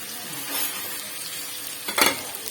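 Spice mixture with turmeric frying and being stirred in a pan, a soft steady sizzle with a louder scraping burst of stirring near the end.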